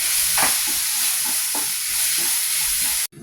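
Onions and tomatoes sauté in a pan for a chicken curry, giving a steady close sizzle with occasional stirring scrapes, then cutting off abruptly near the end.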